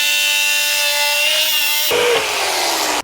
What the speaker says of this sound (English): if you are using a jigsaw like this, get a fine blade